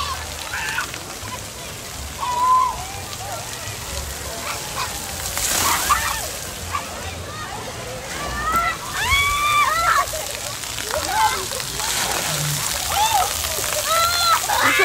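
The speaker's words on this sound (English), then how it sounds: "Hey, you can't throw water." Water splashing and sloshing at a family water park as people throw water, with busy overlapping splashes, children's shouts and chatter, and steady background commotion throughout.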